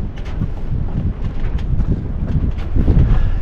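Gusty wind buffets the microphone with low, rumbling blasts that swell toward the end.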